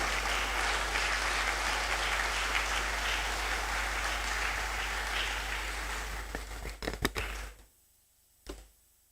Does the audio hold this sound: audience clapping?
yes